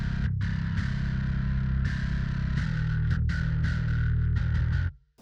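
An electric guitar runs through a Glass amp plugin in an alternative rock production, ringing out sustained distorted chords with brief gaps between changes before cutting off abruptly near the end.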